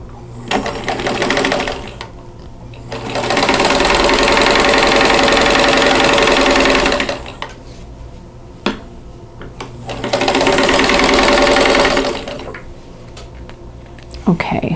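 A sewing machine stitches a square onto quilt fabric for a Mountain Meadows quilt block, running in two loud, steady bursts of rapid mechanical whirring, each several seconds long, with quieter pauses and small handling noises between them.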